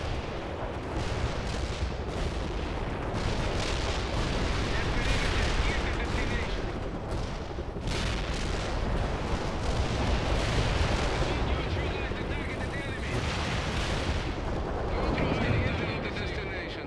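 Artillery fire in the game World in Conflict forms a continuous, heavy roar of booms and rumbling explosions for about seventeen seconds, dense and loud with no clear breaks.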